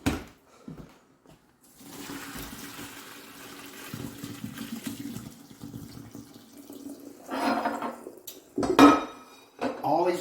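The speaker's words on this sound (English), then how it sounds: "Always do the pasta and then do it with cold water." Cooked pasta is rinsed under a running cold kitchen tap. A steady hiss of water runs with soft clatter of pans and utensils, then louder splashy bursts near the end.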